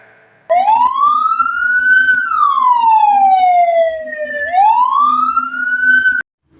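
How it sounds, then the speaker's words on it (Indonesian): An ambulance siren sounds the slow, gentle tone used when carrying a body, a single loud close wail that rises, falls slowly and rises again before cutting off, heard alone over a faint engine rumble. "suara ini biasanya digunakan ketika ambulan tersebut sedang membawa jenazah"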